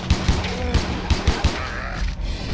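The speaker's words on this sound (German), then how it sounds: "Also braucht er 4 Schuss." Gunshots in the video game Far Cry 3, a rapid run of about six sharp, booming shots in quick succession, followed by a brief rumbling tail.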